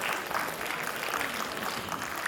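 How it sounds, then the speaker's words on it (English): Short, steady round of clapping from a school quiz audience, fairly loud and even throughout. "Absolutely right. Round of applause."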